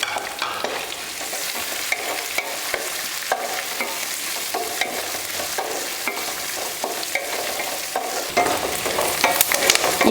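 Onion, green chillies and curry leaves sauté in hot oil with a steady, dense sizzle and frequent stirring scrapes, close and loud throughout.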